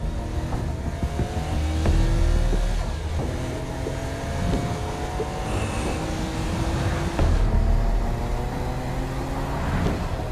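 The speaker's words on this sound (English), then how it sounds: "Kinsey Kensington and Johnny Gat driving together on a birthday adventure" Car engine in the video game Saints Row: Gat out of Hell, a steady droning hum with rising pitch sweeps as it accelerates and shifts, loud and continuous with no talking.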